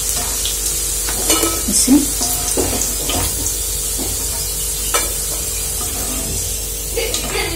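Potato pieces for crispy honey chilli potato half-fried in hot oil, a constant close sizzle and hiss with faint stirring clinks and no clear speech.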